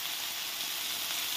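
Chopped fenugreek leaves sizzle in hot oil seasoned with nigella seeds, for a tomato and fenugreek greens dish; a steady, close hiss runs without a break and no one speaks.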